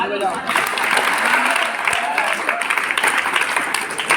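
Applause from a group of schoolchildren in a classroom vote count, dense steady clapping filling the whole stretch with voices chattering underneath.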